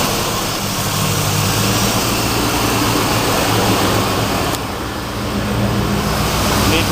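A Chevy small block engine with a faulty throttle position sensor runs at a steady loud roar, the revs rising and holding with a brief dip near the end.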